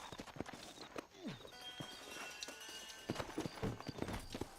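Horse hooves clip-clop at a steady walking stride in the Red Dead Redemption video game, with a brief whinny early on, sitting amid game ambience and moderately close.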